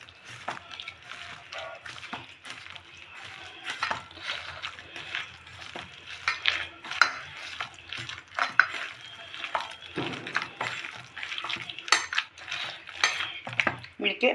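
Ground green pea paste is mixed by hand with turmeric and salt in a metal bowl, producing a continuous wet squelching and clinking against the bowl, close and moderately loud.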